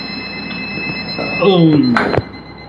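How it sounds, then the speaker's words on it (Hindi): A semi-automatic biochemistry analyzer sounds its alarm during a protein test, a short burst of descending electronic beeps with a sharp click at the end, heard over a steady machine hum. "हमारे प्रोटीन वाला अलार्म बजने लगा बेचारा"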